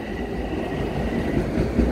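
A commuter train rumbles past close by at Valley Stream station, steady heavy rolling noise with a faint rhythmic clatter of wheels on the rails.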